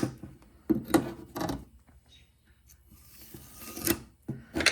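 A tool scrapes built-up gunk out of the rails of a chainsaw bar in short, rasping strokes, close and distinct, separated by brief pauses.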